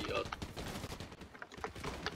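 Gunshots in the video game Fortnite crackle in rapid, irregular bursts, fairly close, mixed with faint clicking.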